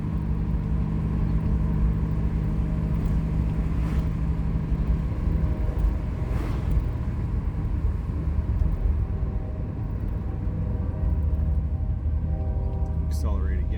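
A 1981 Recaro Daytona 500 Pace Car Turbo Trans Am with its muffler deleted cruises at about 40 mph with the windows down, giving a continuous loud, low engine drone and road rumble from inside the car.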